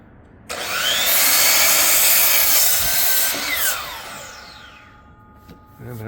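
A power saw cuts through a wooden board for a garage frame, one loud continuous cut of about three seconds that winds down with a falling whine and then fades.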